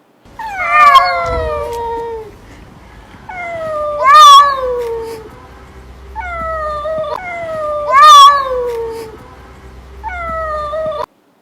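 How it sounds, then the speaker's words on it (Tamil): A male cat caterwauls at night, several long, loud, wavering yowls repeating in slow cycles with short pauses, rising and falling in pitch, close and otherwise quiet. "அது நைட் ஆச்சுன்னா ஒரு காட்டு கூச்சல் போடும் ஆம்பளை பூனை பொம்பளை பூனைக்கு ஒரு சிக்னல் கொடுக்கும்"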